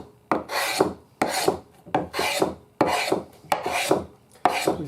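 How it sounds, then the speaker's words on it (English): A sharp chisel drags with the grain across a 1920s wooden horn-speaker amplifier box, scraping off dried, crumbling old varnish in six loud, rasping strokes separated by short pauses. "We're just taking a sharp chisel and dragging it across it."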